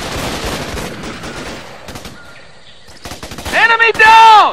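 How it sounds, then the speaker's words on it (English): Enemy gunfire rattles in the Raven Squad Xbox 360 game, rapid bursts of automatic shots in loud clusters with brief pauses, ending in a louder close volley mixed with a shouting voice. "They're shooting at me!"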